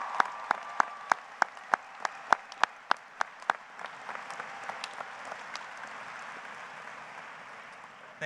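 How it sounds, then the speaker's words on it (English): Audience applauding graduates at a high school graduation ceremony: a few loud, evenly spaced single claps lead into a broad, sustained wash of crowd applause that carries on steadily to the end. "Let's all applaud one more time their outstanding accomplishment."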